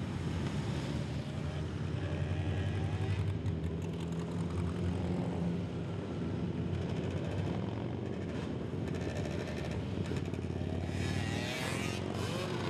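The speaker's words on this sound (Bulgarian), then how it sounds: "Дядо Коледа и неговите джуджета обиколиха на мотори Благоевград" A group of motorcycles rides through the town of Blagoevgrad during a Christmas charity tour by riders dressed as Santa and his elves, their engines droning steadily and loudly with wind buffeting throughout and no speech.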